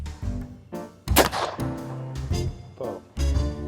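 Sharp shotgun reports from a Purdey Sporter at an outdoor shooting ground, a couple of loud cracks with short decays, set among wind noise and people talking nearby.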